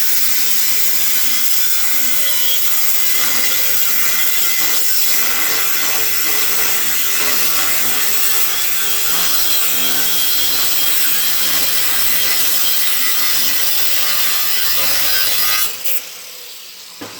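Power saw cutting steel stock for a custom welded bumper bracket, a loud continuous grinding whine with a steady low hum, running nearly without pause before stopping abruptly near the end.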